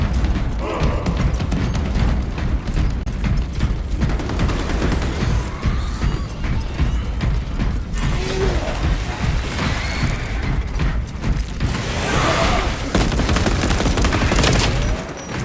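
Rapid bursts of gunfire and booming impacts from the Space Marine 2 video game fill a continuous, loud battle soundscape with dense overlapping shots and mechanical clatter.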